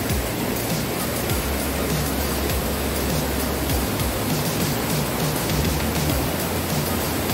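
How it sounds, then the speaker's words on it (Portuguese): A powerful waterfall in the Serra do Mar rushes in a constant, loud, broadband roar that fills the whole stretch without pause. "Olha a força da água aqui, ó."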